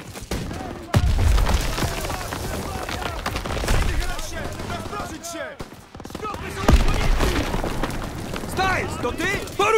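Bursts of gunfire and booming blasts in the video game Call of Duty: WW2 crackle through a dense, chaotic battle din, with voices shouting over the noise.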